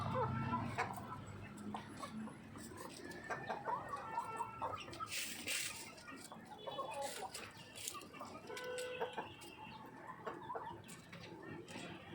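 A hen looking for a place to lay an egg clucks repeatedly in short, uneven bursts, fairly faint against soft background noise.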